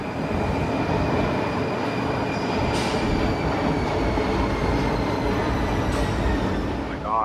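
A Sofia metro train rolls steadily and loudly throughout, its wheels rumbling with a faint high squeal and occasional clatter of the cars.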